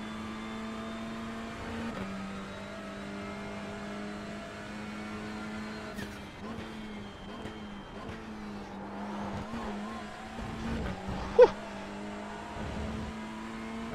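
A race car at Donington Park in a TCR virtual racing game holds a steady engine drone, dips briefly around gear changes and climbs back up, with one short sharp knock near the end.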